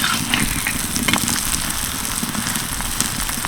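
Atta paratha fries in a pan over low to medium heat with a steady, dense sizzle at close range, continuous and fairly loud with no voices over it.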